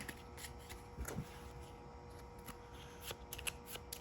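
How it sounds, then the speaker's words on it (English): A deck of cards is shuffled close up in quick soft riffles and taps, quiet and intimate with no talking. "Give them a good shuffle."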